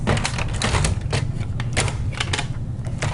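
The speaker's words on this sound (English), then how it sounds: "So we'll put the drum and toner cartridge back into place." Drum and toner cartridge being slid back into a Phaser 3600 laser printer, a close, loud run of plastic clacks, scrapes and rattling clicks in quick irregular bursts, with no talking.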